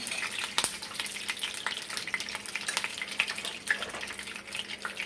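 Ghee heats and sizzles in a hot pan, giving a steady close crackle with scattered sharp pops.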